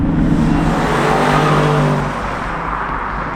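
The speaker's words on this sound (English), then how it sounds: "Just a nice, refined V8, and you do get some deep burbles every time you let off the throttle" A 2019 BMW M850i with its V8 engine gives a deep, steady exhaust burble off throttle. The low rumble is loud and close and eases slightly toward the end.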